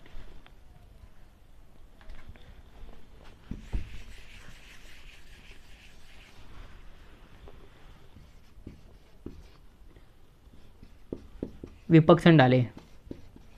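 A hand-written tally of vote counts, with faint scratchy pen or marker strokes under someone speaking in Hindi, followed by a brief louder scraping rustle near the end.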